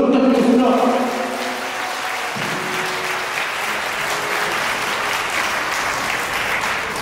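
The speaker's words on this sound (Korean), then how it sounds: "축하의 박수 부탁드리겠습니다." Wedding guests in a hotel grand ballroom applaud the newly declared couple, a sustained wash of clapping from a large crowd that follows a short burst of music or voice at the start.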